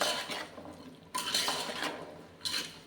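Vegetables for a vegetable pulao fry in a pan while being stirred, with three broad waves of scraping, rustling spoon strokes over a quiet background sizzle.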